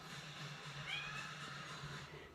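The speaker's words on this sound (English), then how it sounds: "Nice meow." A house cat meows once, a short mid-pitched call against a steady hum of TV background noise indoors.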